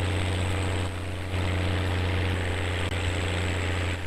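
A Sonalika 60Rx tractor engine strains under load in Farming Simulator 19, pulling a heavy trolley with a loud, steady low drone and a persistent mechanical hum, alone without talk.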